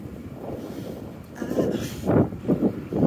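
Gusty wind buffeting a microphone outdoors, a steady low rumble that swells into louder bursts toward the end, with no talking.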